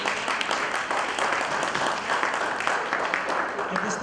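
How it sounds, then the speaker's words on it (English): Steady applause from the audience at a volunteer recognition reception, a dense, even patter of clapping that holds at one level throughout, with voices murmuring underneath. "Let's give them one round of applause,"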